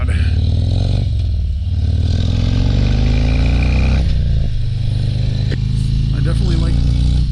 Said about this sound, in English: This thing definitely has like a choppy idle to it.